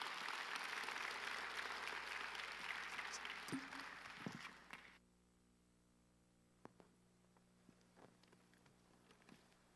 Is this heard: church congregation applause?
yes